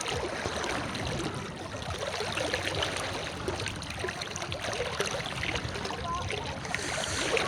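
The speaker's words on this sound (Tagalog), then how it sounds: "Andito po kami sa ilog." A continuous rushing of a flowing river fills the clip, a steady broadband wash with no voices.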